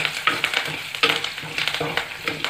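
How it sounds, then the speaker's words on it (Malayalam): Curry leaves drop into hot oil in a pan for Thrissur-style taro upperi and are stirred, giving a crackling sizzle punctuated by sharp scraping strokes, close and lively with no talking. "വേപ്പിലിട്ടു. നന്നായി ഇളക്കി കൊടുക്കാം."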